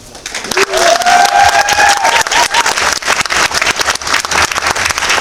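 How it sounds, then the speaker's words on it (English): Loud audience applause at a cosplay championship at Granite City Comic-Con 2017 swells after a brief quiet start, with a rising whistle-like cheer near the beginning and clapping that stays strong and crowded to the end. "A big round of applause."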